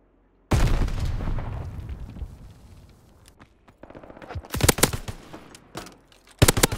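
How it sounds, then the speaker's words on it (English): A grenade blast in a video game bursts in loud and close, with a long rumbling decay, followed by sharp bursts of rapid gunfire and more scattered shots. "Tossing grenade."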